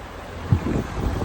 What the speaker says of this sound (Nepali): हावा सुसु सुसु चलिरहेछ